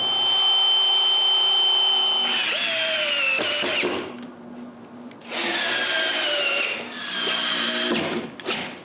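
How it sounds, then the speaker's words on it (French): A power drill drives screws to fix a wooden block in place on a homemade edge sander, in loud whining bursts that rise and fall in pitch with short pauses between runs. "je dois le visser en place"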